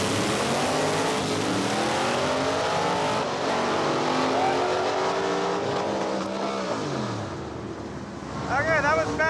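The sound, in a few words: 1970 Dodge Super Bee drag pass with large blower pulley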